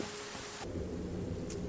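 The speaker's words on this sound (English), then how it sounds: "And it's raining again, check it out." Rain falls in the video game Satisfactory, a steady hiss with a low rumble beneath, continuous and fairly close, the texture shifting partway through.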